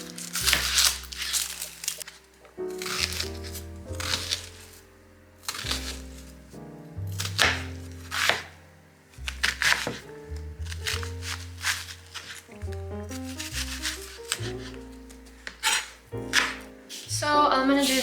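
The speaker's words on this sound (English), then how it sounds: "I'm gonna start by chopping an onion quickly." A kitchen knife chops an onion on a board in a home kitchen, giving a series of sharp, irregular taps and crunches close up, with tonal background music underneath.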